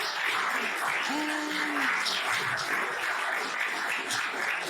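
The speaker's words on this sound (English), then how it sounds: "Let's give another round of applause." Quieter applause for a student presenter at a peer-to-peer masterclass, a modest, even patter of clapping from a small audience with a faint brief tone or voice in the middle.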